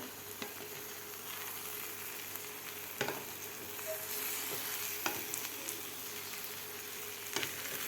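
Methi (fenugreek leaf) vegetables frying in a pan under a quiet, steady sizzle, with a few light scrapes and taps as they are stirred.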